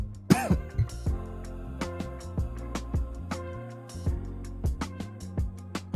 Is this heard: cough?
yes